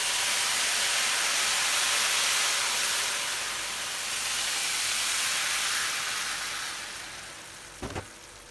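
Syrup poured onto hot fried walnut kadayif gives a steady, loud sizzling hiss that swells and fades gently, with a short knock near the end and no voices.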